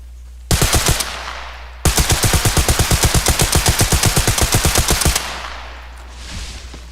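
A rifle in Arma Reforger fires a short burst, then a long, rapid automatic string of sharp, loud shots, each crack evenly spaced, ending in a fading echo.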